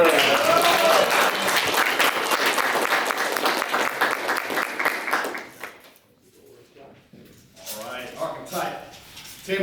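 A Toastmasters meeting audience bursts into dense, loud applause for several seconds, then it fades out and a speaker begins talking.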